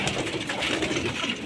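A gift bird, likely a pigeon or dove, coos steadily and fairly close, with soft repeated calls over a dense background of rustling and chirping.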